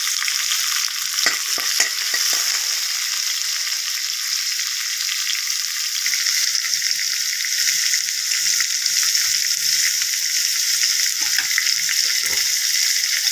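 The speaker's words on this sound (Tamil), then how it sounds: "வெங்காயம் வரவழைச்சு கொஞ்சமாக வச்சு" Onions sauté in a pan for veg salna with a steady, close hiss and sizzle, broken by a few light stirring scrapes.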